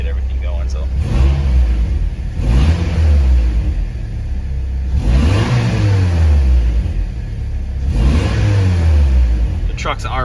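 A Toyota Tacoma 2.4 truck engine revs repeatedly, three rising and falling surges with a rumbling mid-range tone, loud and close, and someone talks over it throughout.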